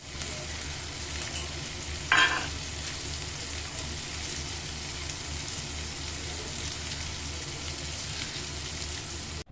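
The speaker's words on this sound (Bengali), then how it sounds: "ততক্ষণ ওটা ভাজা হোক" Food sizzling steadily in a frying pan in a home kitchen, a constant close hiss with one brief louder clatter early on, no talking.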